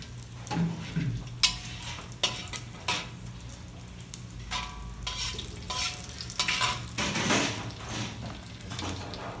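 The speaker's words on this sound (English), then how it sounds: "the fenugreek is the one that fries the fastest and it burns the fastest" Fenugreek seeds fry in a pan with a soft, steady sizzle, punctuated by stirring scrapes and the clink of a metal utensil against the pan.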